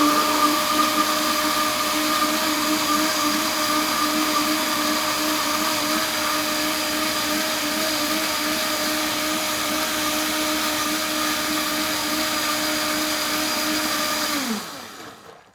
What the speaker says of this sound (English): So I want to point out that this is like a super blender.